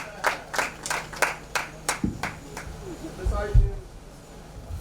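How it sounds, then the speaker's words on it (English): Audience clapping for a professor at his sixtieth-birthday celebration, a handful of distinct, evenly spaced claps that thin out, followed by murmuring voices and low background noise. "A round of applause for Prof,"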